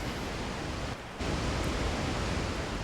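A rushing waterfall in the video game Resident Evil 4 makes a dense, steady hiss of falling water that briefly dips before returning at full strength.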